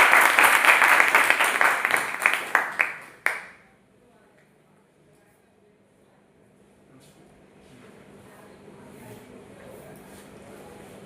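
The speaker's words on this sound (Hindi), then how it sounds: "एक बार ताली हो जाए।" An audience at a business products talk claps in a burst of distinct, fairly close hand claps for about three seconds, ending abruptly and leaving quiet room tone with faint background hum.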